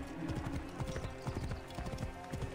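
Horse hooves clip-clopping steadily in the video game Assassin's Creed Origins, a rhythmic trotting beat that stays even and moderately close throughout, with no talking.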